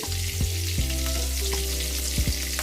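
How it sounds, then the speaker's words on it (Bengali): Slit dried red chilies sizzle in hot oil as a tempering, a dense continuous hiss of frying that stays close and fairly loud throughout, with a low tonal hum running underneath. "এই তেলের মধ্যে শুকনো লঙ্কা চিড়ে ফোড়ন দিলাম"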